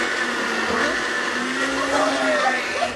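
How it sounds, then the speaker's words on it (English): A blender whirs steadily, blending a drink of avocado, coconut and ice, its motor drone constant and fairly loud throughout, with faint chatter underneath. "we want the blender to blend all the liquids first"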